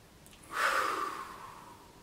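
A single slow, audible breath during a guided relaxation exercise swells in softly, peaks, and then trails away gradually in a quiet room.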